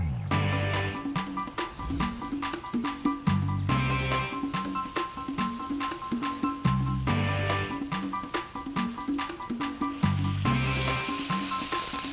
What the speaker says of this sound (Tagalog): Meron tayong hot wok dito, hot oil na rin. Lagay na natin yung ating beef slices.